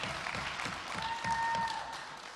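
Audience at a USM university debate event applauds the debaters, a steady, fairly soft wash of clapping from across the room.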